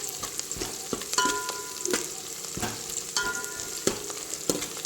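Whole garam masala spices fry in oil for a soya chunk pulao, a close steady sizzle with frequent sharp clinks and scrapes of stirring and no talk.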